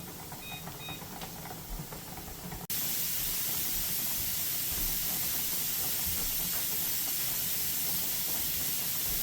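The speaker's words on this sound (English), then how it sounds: "we have a steady stream of steam coming out" Loud, steady hiss of steam venting continuously from a pressure canner, with a quieter stretch at the start before the rush jumps to full strength and holds.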